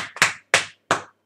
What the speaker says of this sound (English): My brother's clapping again.